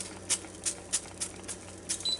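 Several short, airy hisses of an aerosol butter spray on potatoes, roughly evenly spaced bursts, close by and fairly quiet, with a soft background hum.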